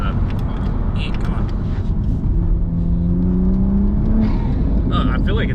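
A sports car, a Supra or Mustang GT, heard from the cabin with the windows rolled up: a loud, steady engine drone that rises in pitch as it revs around the middle, with occasional low voices underneath.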